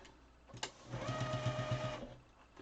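Sewing machine stitching an N95 mask, a short quiet burst of rapid mechanical clatter lasting about a second after a faint click, in a calm indoor room.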